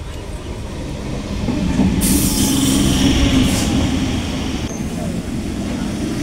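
Passenger train rolling from Rejinagar toward Plassey, a steady loud rumble of wheels on track with a brighter metallic hiss swelling in the middle, heard from inside or close beside the carriage.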